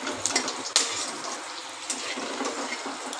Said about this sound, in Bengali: ভালো করে একটু নাড়াচাড়া করে নেব।